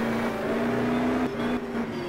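A Jaguar touring race car at the 1985 New Zealand Touring Car Championship Wellington 500 km hums in a loud, steady engine drone under power, dipping briefly as though shifting before carrying on.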